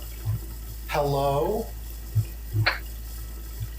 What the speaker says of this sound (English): I can hear the water running in there.